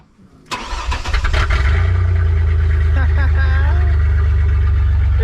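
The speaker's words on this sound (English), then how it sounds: "we're starting this up with no exhaust whatsoever" A Chevy Blazer engine cranks and fires with no exhaust fitted, catching after a brief starter whir and settling into a loud, raw, tractor-like idle with a heavy low rumble, close up.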